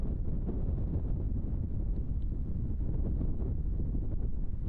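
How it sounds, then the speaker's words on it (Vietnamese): Strong wind buffeting the walls of a yurt tent in Mongolia, a steady, loud rumbling roar that runs without a break. "tiếng gió đập vào vách lều làm tụi mình tỉnh giấc"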